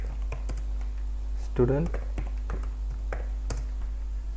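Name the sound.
typing on a computer keyboard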